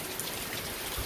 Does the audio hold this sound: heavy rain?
yes